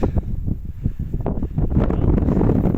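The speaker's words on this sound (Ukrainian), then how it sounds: "Осінь вступає в свої права, холодно сиро, вітер." Cold, damp autumn wind gusts buffet the microphone over a field of winter crops in low, rumbling bursts, with a rushing roar that swells and eases.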